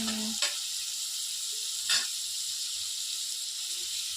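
Grated carrots frying in ghee in a pan for carrot halwa, giving a steady soft sizzle and hiss with a couple of brief stirring scrapes, close and alone without talk.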